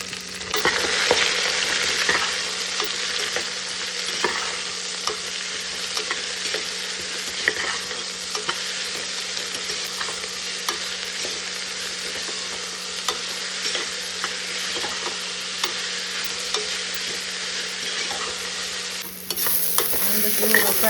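Chopped onions sizzle steadily in hot oil in a pan, with frequent scraping stirs ticking through the constant hiss for about twenty seconds, close and alone, before a brief shift near the end.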